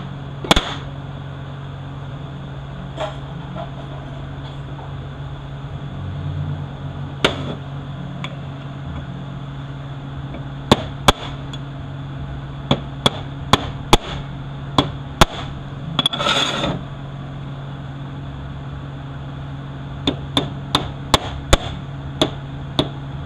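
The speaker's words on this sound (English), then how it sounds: "I'm going to stake that in place." Sharp hammer taps staking a part in place during a Ford E4OD automatic transmission rebuild, scattered single strikes and short clusters of metallic knocks over a steady low shop hum, no talking.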